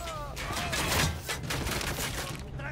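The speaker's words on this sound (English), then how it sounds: "I'm shooting these fuckers." A dense, continuous run of rapid gunfire in Ghost Recon Wildlands, close and loud, with a voice speaking over the shooting.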